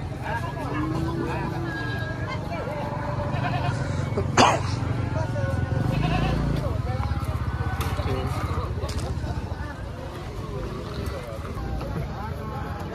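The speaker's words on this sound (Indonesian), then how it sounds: "Berbagai macam jenis kambing" Goats of various breeds bleat in a busy livestock market, wavering calls rising over a crowded background of chatter and movement, with people talking throughout.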